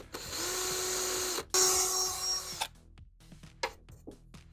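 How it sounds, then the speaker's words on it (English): A small high-pitched drill with a very small bit whines steadily for a couple of seconds into a silicone mask, stops briefly, runs again, then gives way to a few scattered clicks and taps. "I'm going to be using a very small drill bit to do this"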